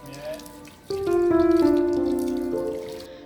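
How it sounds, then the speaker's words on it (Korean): Hands rinse under a communal public water tap in a quiet back alley of Split, Croatia. Water runs steadily and close by, starting softly and then gushing more fully after about a second, with faint voices in the background. "공동 수도가에서 시원하게 손도 씻고요"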